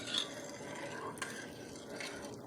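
A yeast mixture for Amish white bread is stirred in a bowl, with a steady, soft scraping and swishing that carries on throughout, close and fairly quiet, with a few brief brighter clinks along the way.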